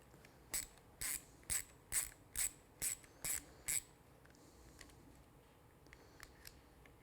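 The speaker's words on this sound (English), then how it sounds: "So using your T30 Torx bit, you take this screw off." A ratchet driver with a T30 Torx bit backs out a screw on a Triumph Street Twin motorcycle clamp, making eight crisp, evenly spaced clicking bursts close up. Quiet follows with a few faint ticks.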